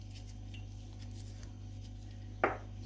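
A spoon stirring thickened milk pudding with butter and vanilla in a pot, quiet soft scraping with faint taps and one sharp metallic clink near the end, close and alone.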